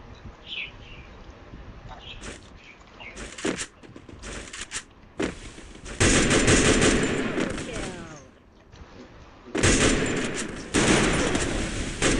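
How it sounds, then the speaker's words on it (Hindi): Bursts of rapid video-game gunfire, some short and some sustained, loud and close, alternating with quieter gaps where faint game sounds and low voices are heard. "भाई तुम लोग गन चलाने लग गए ना"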